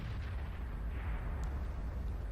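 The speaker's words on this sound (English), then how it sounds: "Okay, so that's our artillery." Artillery fire in the World of Tanks video game, a deep continuous rumbling boom heard throughout at fairly loud level, with no voices over it.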